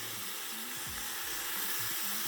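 A pan of frying catfish just turned over gives off a steady, hissing sizzle with low, bubbling gurgles beneath it, close and moderately quiet, with no voices.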